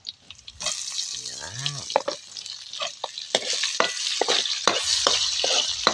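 Ginger, garlic and onion are sautéed in a pan for native chicken tinola, with sizzling and scraping stirs close by, and a short spoken phrase near the start.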